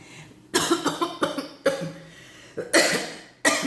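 A person coughs hard in a fit of repeated bursts, several quick coughs in a row followed by a couple more strong ones after short pauses.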